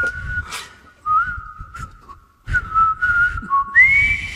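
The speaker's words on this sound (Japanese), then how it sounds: "口笛吹いてさ" Someone whistles a tune up close, a clear piercing tone with sliding pitch and short gaps, over some soft background rustling.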